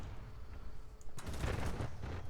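Pantsir-S1 autocannon in War Thunder opens up after a quiet second, a rapid close burst of heavy rounds rattling loudly for just over a second.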